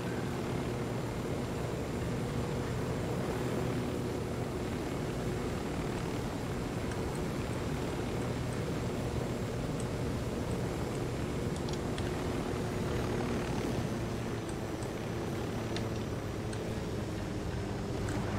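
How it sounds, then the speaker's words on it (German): Helicopters in the video game Ghost Recon Wildlands give off a steady, droning rotor and engine rumble. It holds level for the whole stretch with no talk over it. "Jetzt werde ich von den Helis entdeckt."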